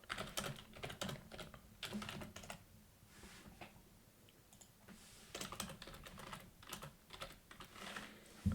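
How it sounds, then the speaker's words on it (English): Rapid bursts of typing on a computer keyboard, loud and close, with a quieter pause in the middle before the clatter resumes; no one speaks. "What's happening to my typing?"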